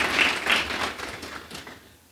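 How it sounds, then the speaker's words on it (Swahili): Applause from an audience honouring graduates at a DIT Songwe technical institute ceremony, a dense burst of clapping that swells twice early on and then tapers off over about two seconds. "Na mnastahili makofi mengi sana sana sana."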